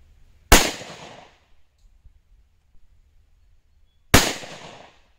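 Two sharp, loud gunshots several seconds apart, fired while testing Elite ammunition over a chronograph outdoors, each with a short decaying tail and quiet between them.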